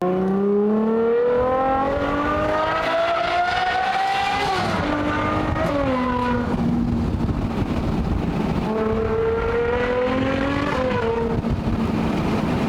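A widebody Ferrari 812 GTS V12 engine revs hard while driving through city streets, loud and close, its pitch climbing through gears then dropping on each shift, repeated over about thirteen seconds.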